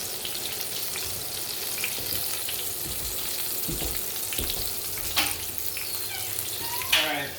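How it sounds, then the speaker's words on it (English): Duck breast, breaded chicken-fried style, sizzles steadily in a pan of hot oil with a dense, continuous crackling hiss and a few sharper pops near the end; no one speaks. "Now that you got it in your hot oil that's sizzling"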